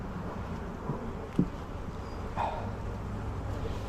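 A honeybee worker buzzes close to someone's face beside a hive, a faint, steady hum over low background noise with a few brief louder passes.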